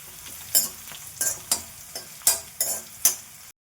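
Green chilies, curry leaves, crushed garlic and asafoetida frying in hot oil, a close sizzle punctuated by about seven sharp, rhythmic scrapes and taps of a spoon in the pan.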